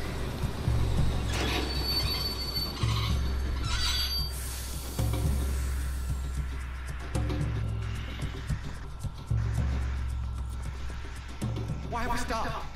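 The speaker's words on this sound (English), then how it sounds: "Mr. Arthur, I didn't know you could drive a train." A steam train driven in Red Dead Redemption 2 rumbles along with repeated squealing wheels and metallic clanks, loud and close, while characters talk over the noise.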